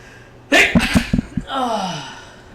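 A single sharp sneeze bursts out close and loud, followed by a short breathy exhale trailing off, set against a quiet indoor room.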